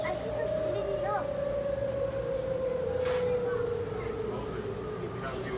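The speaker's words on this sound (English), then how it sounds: "Now they're gonna figure out the siren is real." A tornado warning siren sounds in Chicago, a long sustained wail that slowly falls in pitch, heard at a moderate distance over background noise.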